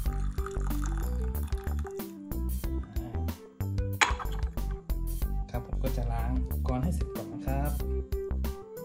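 Hot water poured over Lao Cong Shui Xian oolong tea leaves, a medium-roast Wuyi rock tea, for a quick rinse, with liquid filling the vessel and light clinks of teaware under steady talk and background music.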